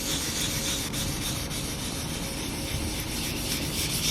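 Continuous close rubbing as 1000-grit wet sandpaper works gently back and forth over a rust spot on a car's paint, an even, unbroken scratchy texture.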